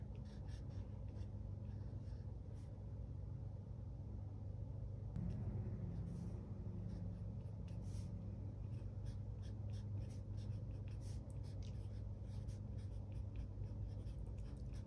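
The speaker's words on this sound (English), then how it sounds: "you can just write on here" Pen or marker writing on a homemade Mother's Day gift, a soft steady scratching close by over a low background rumble, with no talking.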